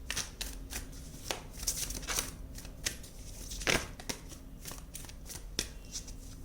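Tarot cards are shuffled and drawn for a relationship reading, with close, rapid riffling and flicking bursts in an uneven rhythm and a few sharper slaps as cards are pulled and laid down.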